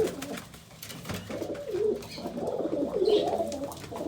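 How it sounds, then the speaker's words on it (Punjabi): A pigeon kept in a Punjab loft gives soft, throaty coos, a few short phrases close by over faint background noise, with no talk over them. "ਤਾਂ ਆਪਣਾ ਮੋਤੂ ਦਾ ਭਰਾ ਹੀ ਆ ਮੈਂ ਪਹਿਲਾਂ ਵੀ ਦਿਖਾਇਆ ਹੋਇਆ ਕਬੂਤਰ"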